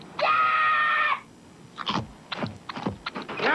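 A child's loud, sustained scream in a 1990 Butterfinger candy bar TV commercial, lasting about a second, followed by short bursts of speech and sound effects.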